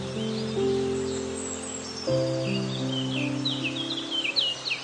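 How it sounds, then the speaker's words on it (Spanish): Distant birds chirp and trill in a forest of giant trees, their calls scattered high over a steady drone of insects and faint rustling leaves, with no voices. "El sonido es constante, pero nunca claro. Insectos, aves lejanas, hojas que se mueven"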